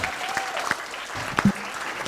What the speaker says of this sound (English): How about a round of applause for the auctioneer?